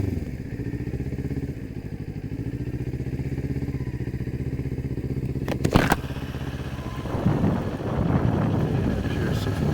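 Kawasaki Ninja 400 KRT motorcycle ridden through Stanford, Palo Alto and Menlo Park streets, its engine droning steadily near the microphone with wind buffeting, a brief sharp clatter midway and rougher, louder engine noise toward the end.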